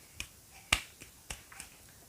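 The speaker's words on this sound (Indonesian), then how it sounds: "kalian simpan tangan di atas tanah yang sudah dipersiapkan, lalu kalian tepuk," Hands pat prepared earth for tayammum ablution in a few sharp, separate taps, faint and close in a quiet space, one stroke noticeably stronger than the rest.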